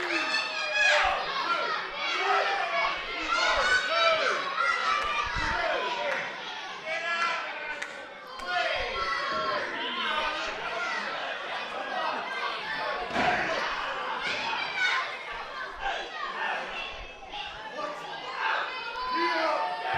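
Wrestling crowd at a live match shouts and cheers throughout, with many voices including children, loud and close, and occasional thuds from the ring.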